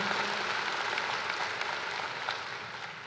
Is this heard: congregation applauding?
yes